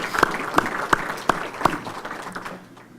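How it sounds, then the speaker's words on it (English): An audience at a mayor's municipal bond presentation gives a short round of applause, a dense wash of clapping with a few sharp individual claps standing out, tapering off after a couple of seconds. "I'd like to give them a round of applause"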